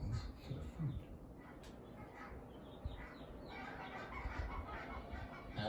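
Barnacle geese and their freshly hatched goslings near freshwater pools, soft clucking and honking calls scattered over a faint outdoor background, fairly quiet and close.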